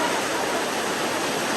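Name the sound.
heavy rain pouring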